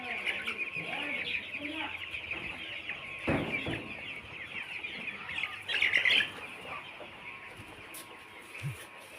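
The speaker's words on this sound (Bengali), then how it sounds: "17 দিনের মুরগি দেখেন, ব্রয়লার মুরগি।" A crowd of 17-day-old broiler chickens clucks and peeps continuously at close range, with a few louder squawks and flurries as birds are handled, while someone talks over them.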